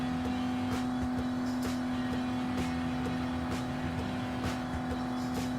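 A Toyota GR Supra race car in Gran Turismo Sport drones at steady high revs with a strong sustained engine tone, and short periodic bursts of shift or road noise recur through the run.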